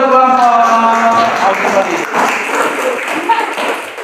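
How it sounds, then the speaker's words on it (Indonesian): A classroom of students at MAN Kota Binjai, an Indonesian Islamic high school, applauds a presenting group, with a voice speaking at first and then a moderate patter of clapping filling the rest of the short stretch. "berikan tepuk tangan untuk kelompok."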